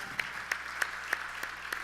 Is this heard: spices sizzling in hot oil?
no